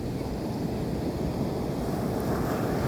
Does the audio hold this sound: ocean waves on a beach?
yes